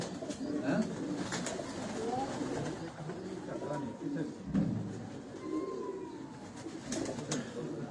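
Soft coos of breeder pigeons repeat among other bird sounds, with people talking throughout in the background.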